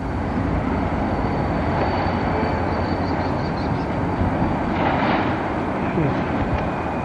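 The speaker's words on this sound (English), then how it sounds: "That's your train engine." A train engine rumbles steadily and loudly, with faint high whines and squeals rising above it and some voices in the background.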